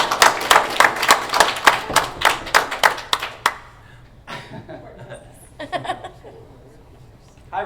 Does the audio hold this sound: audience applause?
yes